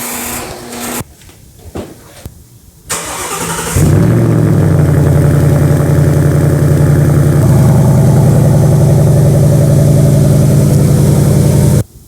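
A Ford Mustang's engine cranks and catches, then settles into a loud, steady, close idle with a deep, even rumble that holds until it cuts off at the end.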